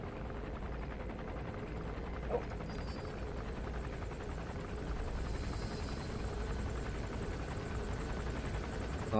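A helicopter's rotor in the video game Metal Gear Solid 5 drones steadily and continuously, a muffled, even thrumming hum that stays at a constant level with no voices over it.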